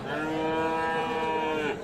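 A single long moo from a Friesian cow with her calf at a cattle market in Aftabganj, Dinajpur, loud and close, holding steady for nearly two seconds before trailing off.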